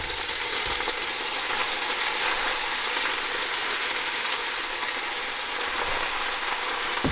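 Washed collard greens dropped into a hot pot set off a loud, dense, continuous sizzle and crackle, close up with no talking, like heavy frying.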